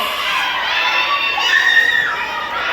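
Crowd at the 2023 Gandang Pinay beauty pageant coronation, loud dense cheering and high-pitched screaming from many voices, sustained and close throughout.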